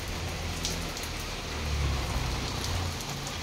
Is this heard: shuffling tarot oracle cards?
no